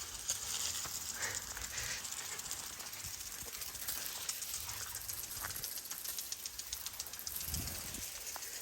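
Steady broadband hiss of water spraying from a garden hose, continuous and fairly close, with soft pattering as droplets land.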